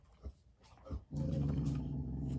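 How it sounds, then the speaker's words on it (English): A dog growls low and rough in a short, close burst, with faint earlier rumbles before a sustained growl. "Nobody wants to hear you barking."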